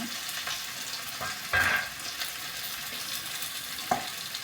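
Onion and green chilies frying in a little oil in a pan, a steady soft sizzle throughout with occasional brief stirring clinks and crackles, no voices.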